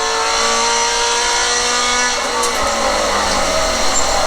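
A Scion FR-S race car engine pulls hard in 4th gear on a track at Apex, its dense, loud, steady roar holding close with rising harmonics and a faint tire note.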